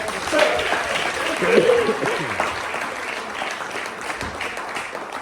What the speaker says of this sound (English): we give a round of applause